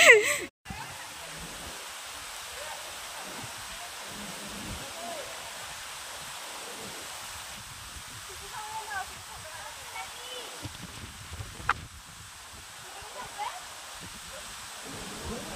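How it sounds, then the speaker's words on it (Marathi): Water tumbles over rocks at a waterfall in a steady, broadband rush that fills the whole scene at moderate level, with faint muffled voices and a few brief knocks over it. "पाण्याचा आवाज ना एवढं भारी येते, लई भारी येते"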